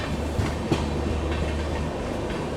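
Passenger express train running on rails on an Indian Railways journey from New Delhi to Barauni, with a steady low rumble and rhythmic clickety-clack of wheels over rail joints, heard from on board and without talk.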